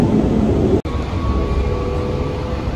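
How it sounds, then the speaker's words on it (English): An airport train in Brisbane rides between stations, giving a steady loud rumble and rolling hiss inside the carriage, with a faint high whine and one brief dropout partway through. "nasa loob na tayo ng airport train yan"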